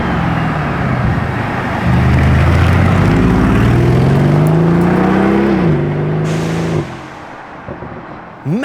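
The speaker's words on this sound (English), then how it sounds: "Hybrid V12 for the Revuelto." The hybrid V12 of a Lamborghini Revuelto roars nearby, revving up and falling with rising and dropping pitch for several seconds before easing off to a quieter idle.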